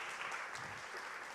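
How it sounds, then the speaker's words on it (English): At a gala, an audience gives a brief, steady round of clapping, heard faintly as a soft, even wash with no talk. "Please give them a round of applause."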